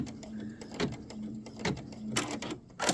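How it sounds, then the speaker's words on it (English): Sewing machine stitching down a piece of a quilted cake block, a steady mechanical hum under repeated short bursts of clattering stitches close by, with no talking. "I'm going to take it over to the machine, and I'll be right back. Okay, so here we are, and we're going to stitch that down."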